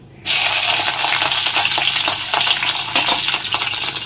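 Urad dal and green chilies dropped into hot oil burst into a loud, sudden sizzle that holds as a dense, close crackle with light stirring over several seconds.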